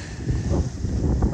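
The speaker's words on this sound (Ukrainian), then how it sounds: "Вітерець холодний, так досить прохолодно" Cold spring wind blowing outdoors at a lakeside fishing spot on a cloudy day, a steady broadband rush with gusty low rumble buffeting the microphone, fairly loud and continuous with no talking.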